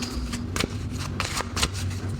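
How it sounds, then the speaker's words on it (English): A deck of tarot cards is shuffled up close, giving several quick papery riffles and soft slaps in an uneven rhythm, with no talk. "I also love the sound of a shuffle, a good shuffle."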